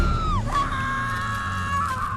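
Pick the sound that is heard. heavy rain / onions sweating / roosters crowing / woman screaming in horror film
woman screaming in horror film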